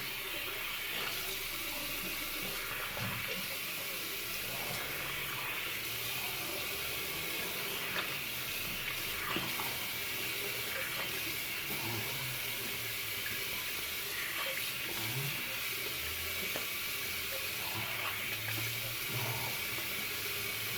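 Cold tap water runs steadily into a sink while rinsing off after a shave with a safety razor and an old shave stick, a continuous soft splashing stream, fairly quiet, with no talk.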